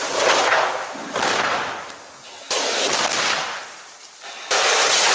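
Thermite shaped cutter charges fire in sequence against steel beams, four muffled, hissing blasts each starting abruptly and fading over about a second, loud and close with no voices.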